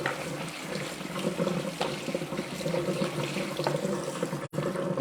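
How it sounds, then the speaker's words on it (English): Steady running tap water splashing into a sink while cooked pasta is rinsed, a continuous close rush with a brief cut near the end. "So I'm just going to rinse that pasta."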